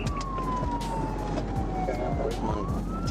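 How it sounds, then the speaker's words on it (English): A police siren during a high-speed chase wails steadily, its pitch gliding down and then rising again, loud and close over a constant low road rumble. "When the trooper activated lights and siren"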